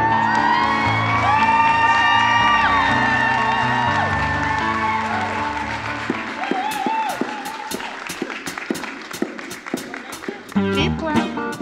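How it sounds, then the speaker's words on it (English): A crowd cheers, whoops and shouts at a Nigeria independence celebration, loud and lively, with voices talking over it and a burst of rapid clapping near the end. "Keep clapping."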